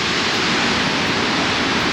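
Fresh, clean mountain stream water near Stepantsminda, Georgia rushes steadily and loudly, a dense unbroken roar of flowing water with no voices.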